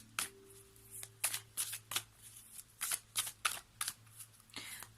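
Tarot cards riffled and shuffled by hand in a quick run of crisp, close bursts, with a steady low hum underneath.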